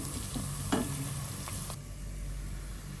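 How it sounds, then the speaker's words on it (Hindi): Onions frying in a pan for a Hindi-style potato and capsicum dish, a steady broad sizzle with a few sharp stirring scrapes, close and alone. "प्याज जो है वो अच्छी तरह से भून रहा है।"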